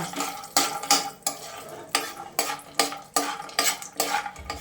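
Semiya vermicelli fries on medium flame in a pan and is stirred in quick, repeated scraping strokes, each a bright rasp with a faint sizzle beneath, close and steady with no talking.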